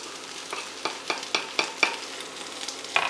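Garlic cloves and a chili being stirred in a pan, a series of sharp scraping spoon strokes at a steady rhythm over a low, quiet sizzle, close and without speech.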